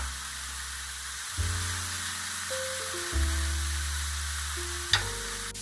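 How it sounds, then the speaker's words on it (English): Garlic is added to a pan with softened onions and lardons, giving a soft steady sizzle under a low background hum, with a brief sharp clatter near the end. "And now we add in the garlic."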